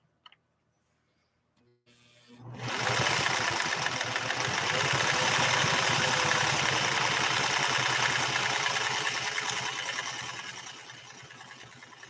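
A Singer 401A sewing machine stitching: after a couple of quiet clicks the motor spins up and runs steadily at a fast, even whirr with rhythmic needle clatter, close and loud, then eases slightly near the end.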